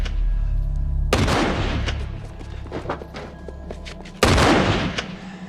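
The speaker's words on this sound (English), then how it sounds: "Rick Grimes, like all violent Americans, shows up and starts shooting at the poor Muslim" Gunshots fired in a scene from The Walking Dead: two loud, booming reports about three seconds apart, each with a long decaying tail over a low rumbling background, with no talk.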